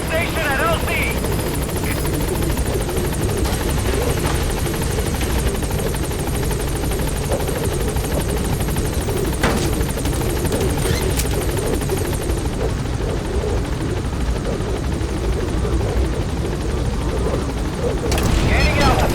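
B-Quad support helicopter arriving at a landing zone in Metal Gear Solid V, a loud, steady rotor roar with a dense thumping beat that fills the whole stretch, with faint brief bangs and radio chatter mixed in.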